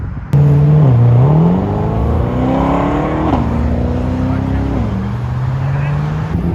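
A Nissan Skyline R32 or R33 sports car driving by at a Cars and Coffee gathering, its engine loud and near, revving up in rising steps and holding a throaty drone, with people talking over it.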